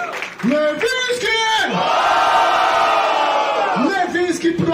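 A rap battle crowd roars loudly after a round of the Batalha da Aldeia, raising a sustained wave of cheering and shouting that swells through the middle and carries on, with an emcee's voice calling out over it at the start and end.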